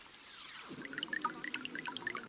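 Water dripping and pouring into a glass, a quick pour that slows into a cluster of bright, close plinking drips with uneven rhythm, no voices.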